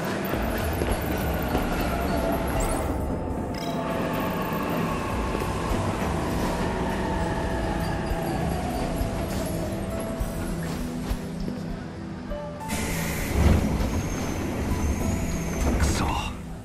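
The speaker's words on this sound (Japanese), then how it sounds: "電車来たし、" Train pulling into a station in the 13 Sentinels video game, a continuous rumbling and rolling roar with a rising squeal of brakes, a sharp burst near the end, and voices talking over it.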